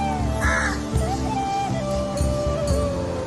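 Crows cawing near a house where they come daily to be fed, several harsh repeated caws in quick succession, loud and close, with no talking.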